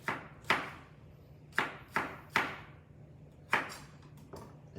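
A kitchen knife chops through an onion on a cutting board, giving six sharp, fairly close knocks at an uneven pace with quiet gaps between them and no talking.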